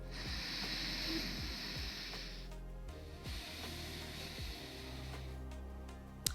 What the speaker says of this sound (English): Ujjayi breathing. This involves constricting the muscles at the base of your throat